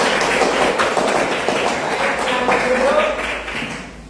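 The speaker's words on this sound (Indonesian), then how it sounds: "Oke, tepuk tangan semuanya." A class of students claps hands together in a lively, dense burst of overlapping claps, with some voices mixed in.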